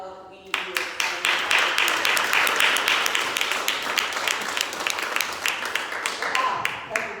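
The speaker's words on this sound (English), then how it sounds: "Can we give you all a round of applause?" An audience claps at a leadership panel event, steady applause building quickly and holding close and loud throughout, with individual sharp claps standing out near the end.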